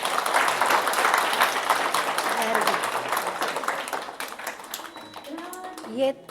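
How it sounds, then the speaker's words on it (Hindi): Schoolchildren at a Hindi Day school celebration clap loudly and continuously as a crowd, the applause fading toward the end as a voice begins speaking. "तो एक बार ज़रा जोरदार तालियां बजा दीजिए।"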